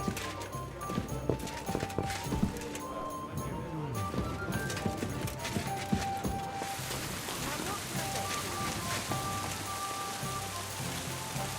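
Horse hooves clip-clop in a steady rhythm over a constant patter of rain in Kingdom Come: Deliverance II, with faint voices and occasional game sound effects mixed in.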